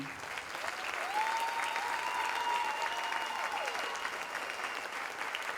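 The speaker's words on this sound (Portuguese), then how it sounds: "Eu quero pedir uma salva de palmas a todos os estudantes dessa rede fabulosa." Sustained applause from a large audience at a university rector's reappointment and directors' inauguration ceremony in Brazil, a dense steady roar of hands lasting the whole stretch with a faint tonal whine running beneath it.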